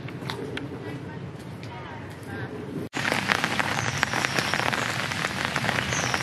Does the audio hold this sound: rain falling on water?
yes